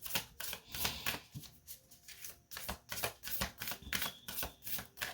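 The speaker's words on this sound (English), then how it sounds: "Got some good shuffles in there." Tarot cards shuffled by hand in repeated riffling bursts, a steady papery flutter with short pauses between shuffles, close and fairly quiet with no talk.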